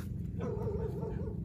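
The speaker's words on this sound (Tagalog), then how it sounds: "Madami ng aso" Several dogs bark and yip close by at a rural spot where a man is out catching fish, the barks running continuously and fairly loud through the moment without any talk over them.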